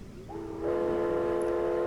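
A sustained train horn from the video game realMyst blares steadily, starting softly and then holding loud and even, with no other sounds over it.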